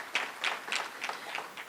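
Small community meeting audience applauding a senator at a gathering about a new regional medical center, with faint, sparse clapping in a few uneven bursts.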